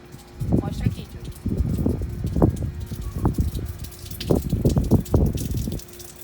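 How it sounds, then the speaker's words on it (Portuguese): Water overflowing from a full household water tank during cleaning, gushing and splashing in uneven bursts that grow stronger, with loud close-up turbulence. "A água já está começando a descer, daqui a pouco ela vai jorrar cada vez mais e mais."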